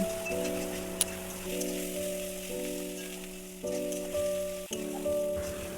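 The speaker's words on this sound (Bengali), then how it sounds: "মশলাটাকে কষিয়ে নিচ্ছি" Spices with turmeric and cumin powder sizzle steadily in a hot pan for a country chicken curry, a continuous close frying hiss with a few soft stirring bumps, and a steady tonal hum running underneath.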